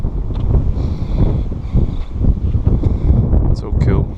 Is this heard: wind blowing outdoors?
yes